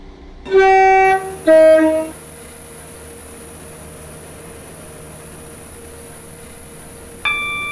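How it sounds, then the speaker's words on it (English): A Waterline train in the Roblox game Stepford County Railway sounds two loud bursts of electronic chime tones, then a steady high hum and faint running rumble, with another tone starting near the end. "Welcome aboard this Waterline train to Newry."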